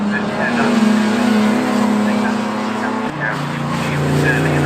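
Classic sports cars racing at Oulton Park, engines roaring loudly and continuously as they come back down the hill, with a sustained droning note that shifts pitch midway and a commentator talking over the top.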